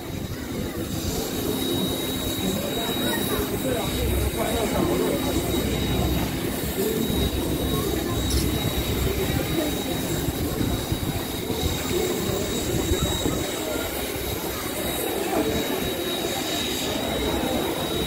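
DT668 steam train running on a special festival service, a loud continuous rumble of wheels and rolling cars with a high steady whine and faint squeal throughout.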